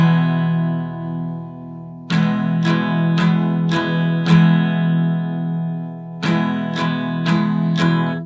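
A guitar strummed in a 16th-note pattern, one sustained chord at first, then a quick run of five crisp strokes, a ringing pause, and four more strokes, close and clear with no talking.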